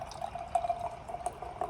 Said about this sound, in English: Pouring it in my Tusket Falls